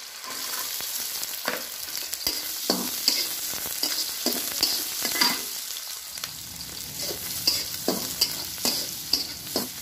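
Green chillies and garlic are stir-fried in a hot pan at a roadside dhaba kitchen, a continuous close sizzle punctuated by repeated scraping and clanking strokes of the spatula, with no voices.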